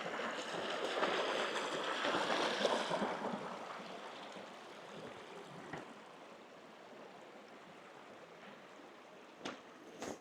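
Broad, steady rush of a large waterfall and stream, loud for the first few seconds and then easing to a softer constant roar, with brief wind buffets on the microphone.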